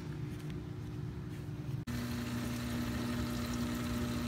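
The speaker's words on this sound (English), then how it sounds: "here's the reactor hooked up and running" Aquarium phosphate reactor pump running inside the sump of a 125-gallon reef tank, a steady low motorized hum with a constant tonal drone that continues evenly throughout, briefly cutting out once before resuming.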